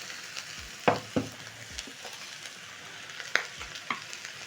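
Minced beef frying in cooking oil in a pot, a steady close sizzle with scattered scraping knocks of a utensil pushing and stirring the meat, several sharper clacks standing out; no talking.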